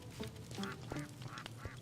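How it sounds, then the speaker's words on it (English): Ducks quack repeatedly in a modded Minecraft game, a quick run of nasal in-game calls sounding close and fairly loud with no talk over them. "Quack, quack."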